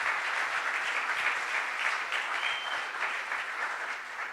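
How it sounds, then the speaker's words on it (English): Audience applause at a full-house startup community anniversary party in Barcelona, a dense, steady wash of clapping held at an even level throughout, with no voices rising above it. "give yourselves a really big round of applause for being here tonight"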